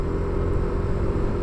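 A sand-carrying truck passes on a mountain road, a steady low engine rumble and road noise that holds evenly throughout without rising or fading.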